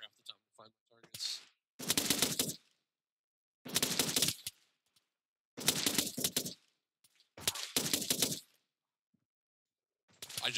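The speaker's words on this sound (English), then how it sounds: "I'm following machine gun tracer fire half the time to find my targets." Machine gun fire in the military shooter game Arma 3 comes in four loud, rapid bursts separated by silent gaps, with a little speech near the start.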